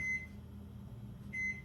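A microwave oven gives two short electronic beeps, one at the start and one near the end, above a steady low appliance hum in a home kitchen.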